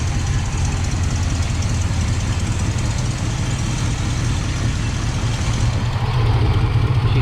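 Steady, close engine idle from a 1974 Buick Regal running rough after a fuel pump replacement, an uneven low chugging with a slight knock that continues without pause and swells a little toward the end.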